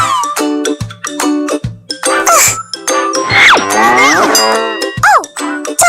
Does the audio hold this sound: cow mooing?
yes